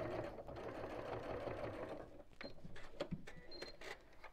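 A sewing machine runs steadily, stitching the bottom three sides of a fabric messenger bag, with a faint soft motor whir that stops after a couple of seconds, followed by quiet handling clicks.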